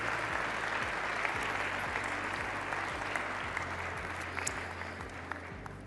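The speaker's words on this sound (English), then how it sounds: "a big round of applause and a deep appreciation for this moment and for our distinguished leaders" A large audience at a Saudi-U.S. investment forum applauds distinguished leaders, steady continuous clapping that holds at a full level throughout and eases slightly near the end.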